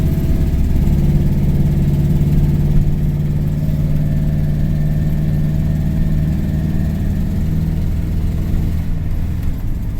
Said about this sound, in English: When you hear it revving up